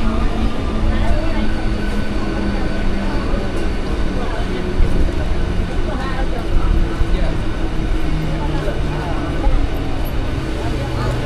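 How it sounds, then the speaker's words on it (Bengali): A passenger train rolls into Nandakumar station on the Tamluk to Digha line, a steady rumbling clatter of wheels and carriages heard from on board, with people talking over it. "আমাদের ট্রেন কিন্তু ঢুকে গেল নন্দকুমার স্টেশন।"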